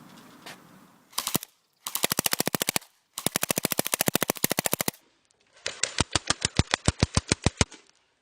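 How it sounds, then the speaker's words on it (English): AK-74U rifle with folding stock firing at an NES cartridge, several rapid automatic bursts of sharp, loud shots separated by short pauses, the last burst slightly more distant in tone. "An AK-74U with a collapsible folding stock."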